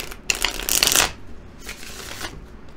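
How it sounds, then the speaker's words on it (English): Tarot cards are shuffled close up, a crisp riffling flutter in two quick bursts with a brief pause between. "Let me shuffle it just a little bit."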